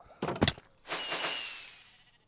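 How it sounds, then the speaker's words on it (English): Fireworks exploding in Minecraft: a quick pair of sharp pops, then a bigger crackling burst that fizzles out with a thin whistling trail, all fairly close and alone. "beautiful fireworks. Magnificent."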